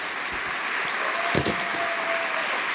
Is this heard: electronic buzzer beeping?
no